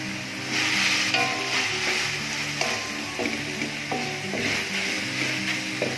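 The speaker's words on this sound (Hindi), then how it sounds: "अभी फ़ौरन चिकन डाल देते हैं इसमें। तो चिकन ऐड कर देते हैं फ्राई हुआ।" Fried chicken for Mongolian chicken tossed into a hot pan, a loud constant sizzle broken by repeated clinks and scrapes of stirring against the metal, close and unvoiced.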